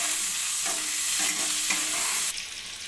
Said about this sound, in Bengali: পেঁয়াজ, ক্যাপসিকাম, কাঁচা লঙ্কা আর রসুনটাকে ভালো করে আমি ভেজে নেব।